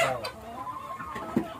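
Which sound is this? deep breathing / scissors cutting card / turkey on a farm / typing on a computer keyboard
turkey on a farm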